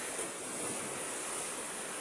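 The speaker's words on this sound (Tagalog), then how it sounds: "katamtaman lang talaga yung lakas ng alon" Ocean waves washing in steadily on a moderately rough sea, a continuous broad surf roar with gusty wind noise over the microphone and no talk.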